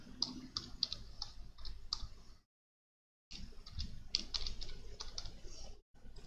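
Someone types a new name on a computer keyboard while renaming an item in PLC programming software for a Mitsubishi FX5U; close, rapid clicky keystrokes come in two bursts separated by a second of silence.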